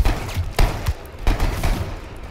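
Enemy gunfire in the zombie survival game H1Z1, several sharp loud shots spaced irregularly with rumbling low booms between them and no talk over it.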